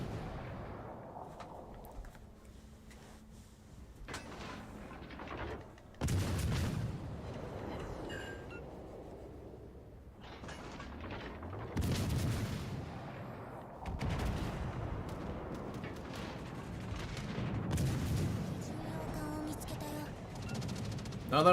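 Warship main guns firing armor-piercing shells in World of Warships: Legends, a string of deep, booming salvos a few seconds apart, each blast followed by a rumbling decay.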